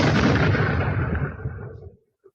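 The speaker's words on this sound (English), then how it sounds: "Get ready for a loud explosion, folks." A loud explosion plays from a video, starting as a huge rumbling blast that rolls and fades over about two seconds, ending in silence with a brief faint tick.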